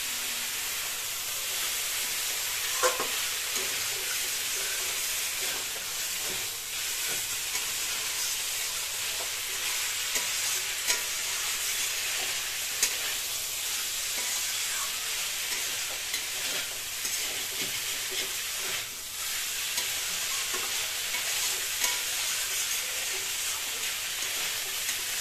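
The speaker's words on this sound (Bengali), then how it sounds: "এইখানে মা এবার চিংড়িগুলো আস্তে আস্তে দিয়ে দিচ্ছে।" Pre-fried prawns being added and stirred into a pot of cauliflower biryani, a long steady sizzle with intermittent scraping and clattering from the stirring, no voices.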